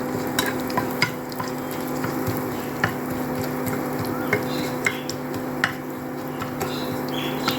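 Panch phoron and dried red chillies hit hot mustard oil in a pan, giving a steady low sizzle with scattered clinks and scrapes of a spoon against the cookware.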